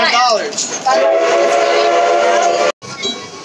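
Knott's Berry Farm railroad train sounding a loud sustained horn, held for over two seconds before a brief cutoff, with some rumble and bright whistle tones around it.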